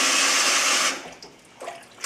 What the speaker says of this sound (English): When you get it all filled up, you let your garments rinse for a second.